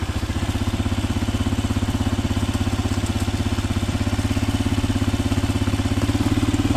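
A motorcycle engine runs steadily at close range while riding through the Caatinga, a low, even pulsing putter with no talk over it, holding constant for the whole stretch.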